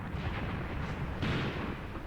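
Artillery fire falling in Graviteam Tactics, a continuous heavy, deep rumbling barrage of blasts that swells slightly partway through, loud and with no voices over it.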